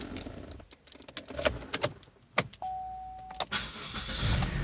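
Car interior with clicks and key jangles, then a single engine start: a brief chime tone followed by the engine catching and settling into a steady idle, near and clear.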